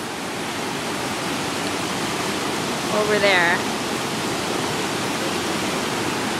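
A river rushing past in a steady, broadband roar that fills the whole clip, with a brief exclamation from a nearby voice partway through.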